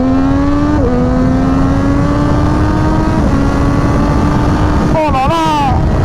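A Triumph Daytona 765 Moto2 motorcycle screams at high revs under heavy engine and wind noise, its pitch climbing steadily and dipping briefly with each quickshifter gear change, three upshifts in quick succession.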